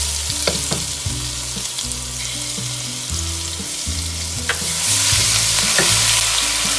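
Ginger garlic paste sizzles and crackles loudly in hot oil, with steady frying hiss, occasional spatters and the scrape of stirring over a low background tone.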